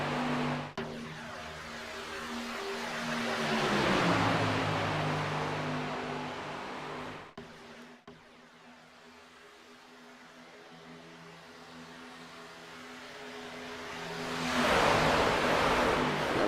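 Racing trucks circling the high banks at Talladega, engine roar swelling and fading as packs pass by, loud at peaks with steady drone between, no talk.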